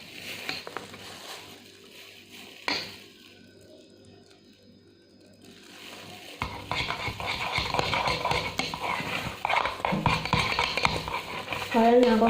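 Hair dye mixture stirred in a container, a soft scraping and clinking that starts faint and grows busier and louder in the second half, continuous rather than rhythmic, with a brief sharp knock partway through.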